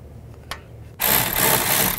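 Wheel hub assembly bolts on a 2010-2017 Chevrolet Equinox being tightened with a power tool: a sudden loud, buzzing whir starts after a short click and runs steadily for about a second, with no voices.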